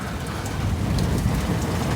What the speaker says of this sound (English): On top of that, it's pouring down rain.